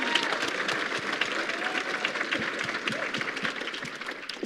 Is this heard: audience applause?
yes